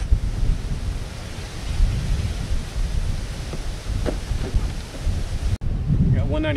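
Steady wind gusting across an Oklahoma golf course, a continuous broadband rush with low rumbling buffets against the microphone, loud and close throughout with a brief dropout near the end.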